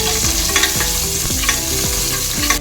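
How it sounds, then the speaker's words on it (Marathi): Mutton fat sizzles and fries in hot oil in a pan for a Maharashtrian mutton thali, a loud continuous crackle with rhythmic scraping strokes of a stirring spoon repeating about once a second. "आता मी ही चरबी सोडते पहिले चांगलं तळून घेते"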